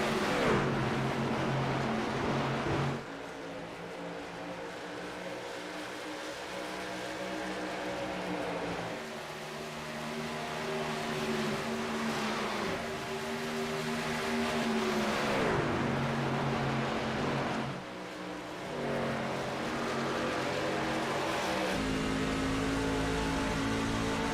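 Roaring race truck engines from the 44 and 66 trucks battling on track at the Kelsie's Fight 200, heard onboard with steady loud drone, rising and falling revs and gear shifts, with no talking.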